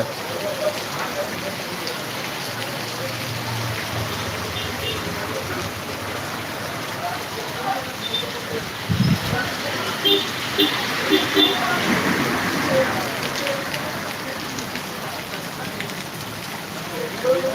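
Heavy, continuous downpour in Jamkandorna hisses steadily across a broad wash, with a few faint thumps and scattered drips standing out over the sustained rain.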